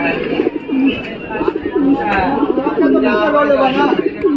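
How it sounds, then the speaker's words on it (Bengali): Allahabadi pigeons coo at the big pigeon market on Galiff Street, repeated throaty rolling coos close by in an overlapping rhythm, with people's voices mixed in around them. "চিনিয়া এলাহাবাদি পায়রা তাদের কাছে একটা দেখাচ্ছি"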